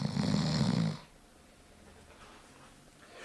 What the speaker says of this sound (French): Baborco continue de ronfler épouvantablement.